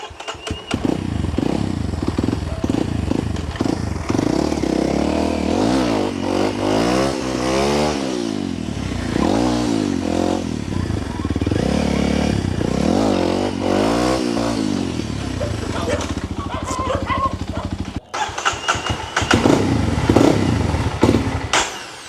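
A Kawasaki KLX motorcycle with a faulty starter is ridden on a test ride, its engine revving up and down in repeated surges close by, with steady mechanical clatter throughout.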